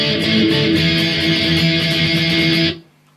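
Loud distorted electric guitar playing the breakdown of a song, a dense driving wall of chugging chords that cuts off abruptly near the end.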